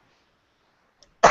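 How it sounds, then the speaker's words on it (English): A single sharp, loud cough bursts out near the end after near silence, close to the microphone, from a man presenting an online business talk. "Sorry, the cough's coming back on"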